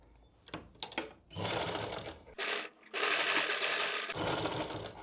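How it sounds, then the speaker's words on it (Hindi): An electric sewing machine stitching a shoulder seam on a suit, starting with a few short bursts and then running in two sustained, loud, close whirring runs separated by a brief pause. "अब हमने सिलाई लगानी है।"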